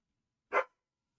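A single short dog bark, fairly close and loud, standing alone against silence with no wind noise audible.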